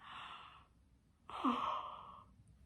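Two drawn-out breathy exhalations, the second louder and longer with a rising voiced tone, like a yawn, heard alone with no talking.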